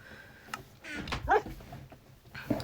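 Minecraft tamed dog making a few short whimpers and yips, small and fairly close, amid faint game sounds and no speech.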